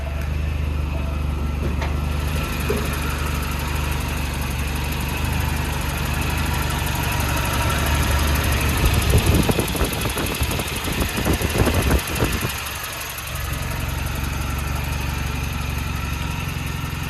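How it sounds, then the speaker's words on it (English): A 1984 Volvo 240 engine idles low with a steady, close rumble, briefly revving or shuddering midway before settling back into its even idle. "I still gotta set the idle right. Idle's kind of low, but I think it's fine."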